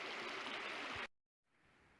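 Creek water rushing through Lanphier Canyon in the Blue Wilderness, a steady, full hiss that cuts out abruptly for a moment, then returns fainter.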